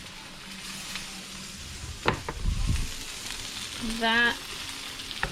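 Rice cooking in a pan sizzles softly while being stirred, with a few scraping clacks of the utensil against the pan; a voice speaks briefly over it.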